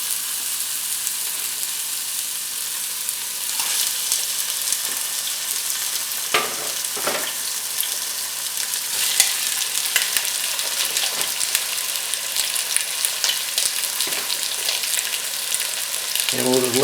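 Beef shanks searing in hot oil in a pot over high heat, giving a steady, loud broadband sizzle throughout with a few sharper crackles and spits, and no talking.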